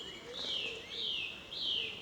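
Birdsong on an evening countryside walk around Barkway: three faint, repeated whistling calls, each gliding downward, set against a soft outdoor hush.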